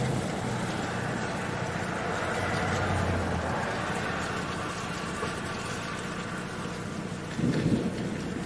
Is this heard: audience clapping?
no